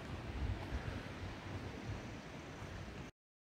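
Surf waves breaking at a beach in Khao Lak, Thailand, a steady rushing wash with wind noise at moderate distance, heard alone for about three seconds with no talk.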